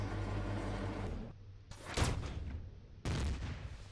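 A plasma cannon fires in the space survival game Empyrion: two heavy whooshing blasts with abrupt onsets follow a steady machine hum. The hum cuts out before the first blast.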